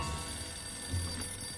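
A telephone rings in the Sam and Max Save the World video game, a steady electronic ring, moderately loud, with no talk over it.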